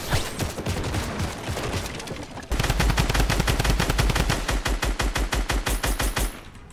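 Rapid automatic gunfire in a battle royale video game, dense bursts of shots that tighten into a loud, steady rhythmic volley, with no voices over it.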